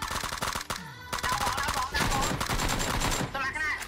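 Rapid automatic gunfire in the battle-royale game PUBG, loud dense bursts nearly continuous throughout, with players talking over the shots.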